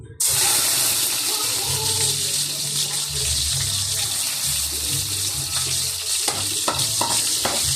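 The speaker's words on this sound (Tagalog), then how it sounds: "Ayan, mainit na po ang ating mantika. Pwede na nating ilagay ang bawang mga kaguro." Three cloves of garlic drop into hot cooking oil and sizzle loudly and continuously, with stirring scrapes and clinks close by, without talk.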